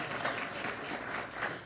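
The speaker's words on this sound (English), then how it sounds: "Give him a round of applause." Scattered audience applause at a county Republican party committee meeting, a steady, fairly faint wash of claps with no standout voices across the short burst.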